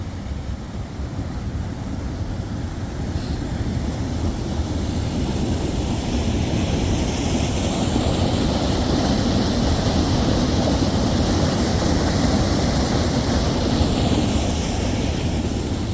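Flooded river in spate rushing beneath a bridge between a mill and a château, a loud, dense, continuous roar of water that holds steady throughout with no voices.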